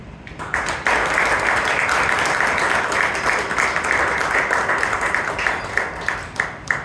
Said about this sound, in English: Can we have a big round of applause for all the members as well as the founding member Robinson sir?